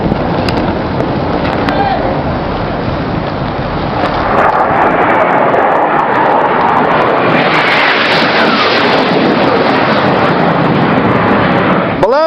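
A military aircraft roars low past a Navy ship at bridge-wing level, a loud continuous rushing jet noise with wind buffeting, building as it passes close overhead.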